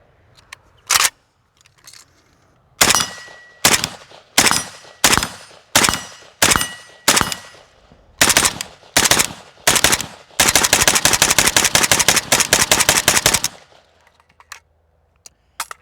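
Rapid-fire bursts from a WASR AK rifle shooting Polish GROM ammunition: sharp loud shots in quick strings and short volleys, ending in a long unbroken stretch of continuous fire lasting about three seconds, then quiet with a few faint clicks.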